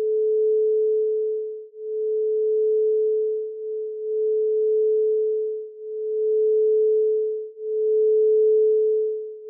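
A quartz crystal singing bowl tuned to F rings a pure, steady tone that swells and fades in slow repeated waves, each strike blending into the next, sounding alone and clear.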